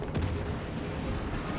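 A warship, the Toulon, fires a high-explosive shell in the game World of Warships Legends: one sharp, heavy boom near the start, followed by a low rumbling roll of distant battle noise.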